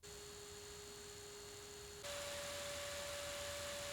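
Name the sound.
Tilta ZV-E1 cage cooling fan mechanical whine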